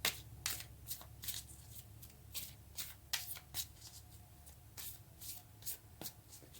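Tarot cards are shuffled by hand in a quiet room, a series of crisp riffling bursts repeating in a loose rhythm, close and soft with no speech over them.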